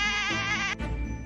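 Sheep bleating in a puzzle scene about tigers catching sheep: a loud, wavering, quavering bleat sustained for most of a second, followed by a shorter call, with a faint tinkling jingle underneath.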